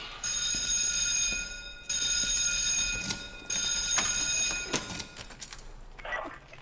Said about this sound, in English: Confirmation on a pulled alarm